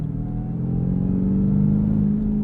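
A 2024 Ford F-150 Raptor R pickup with a 720 hp V8 and 10-speed transmission accelerating, a deep steady engine rumble rising smoothly in pitch, heard from inside the cab before cutting off abruptly.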